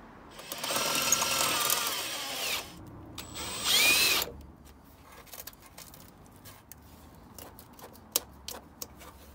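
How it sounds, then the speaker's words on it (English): A power drill bores out the rivets holding a car's wheel arch cover, with two loud whining bursts followed by quieter clicks and taps as the cover is worked loose. "So what I'm gonna do now is drill it out and take the cover off"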